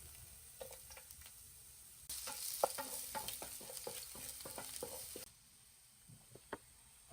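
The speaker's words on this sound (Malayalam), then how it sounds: "കുറച്ച് വെളിച്ചെണ്ണ നമ്മളെ പാനിലേക്ക് ഒഴിച്ചെടുക്കാം കുറച്ച് ചെറുള്ളി ഇട്ട് കൊടുക്കാം ചെറുള്ളി അരിഞ്ഞു വെച്ചത് ഇട്ട് കൊടുക്കാം" Chopped shallots fry in coconut oil in a pan, a soft sizzle that swells loudly as they hit the oil, with repeated stirring scrapes and clicks over a quiet background.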